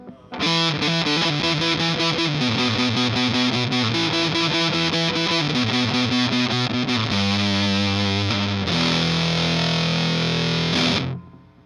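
Heavily distorted electric guitar through a Tight Muff fuzz pedal, a modern version of the Big Muff, with a thick fuzz tone, loud sustained chords changing every couple of seconds, played alone without voices.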